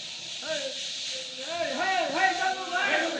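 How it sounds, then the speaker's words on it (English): Steam hissing at a steam plant in a Superman radio drama, a loud continuous hiss with whistling, wavering tones rising and falling over it, as a roaring jet of steam. "plunges into a cloud of steam, and at once becomes Superman."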